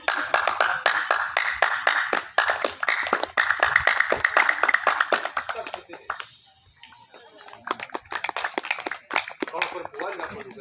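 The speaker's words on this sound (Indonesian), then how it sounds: "Ya, teknik tepukan." Rhythmic, fast hand-clapping of a Didong performance from Gayo tradition, sharp regular claps running under continuous talking, pausing briefly before resuming.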